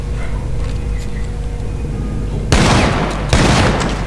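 Gunfire from a weapon in the video game Dead Space 3: two loud, dense bursts of rapid shots, the first cutting in sharply after a low ambient hum and a second following moments later.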